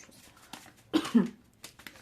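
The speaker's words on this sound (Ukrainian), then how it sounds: "Від того перцю не чхаю, але зато кашляю." A single close cough, brought on by pepper while cooking, breaks a quiet background, a short throaty burst standing alone.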